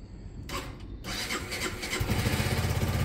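A Honda CB200 motorcycle starts with a brief cranking burst, then settles into a steady, close idle with an even low throbbing rhythm.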